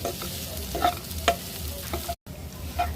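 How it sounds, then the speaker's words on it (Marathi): A spoon scrapes and stirs mashed potato in a hot pan with a soft sizzle, a few sharper clinks of utensil against metal; brief silence near the end. "आता याच्यात आपण मॅश केलेला बटाटा टाकून घ्यायचा छान परतून घ्यायचा बटाटा"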